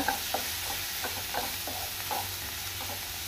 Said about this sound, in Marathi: बरें ताका मिक्स करून घेता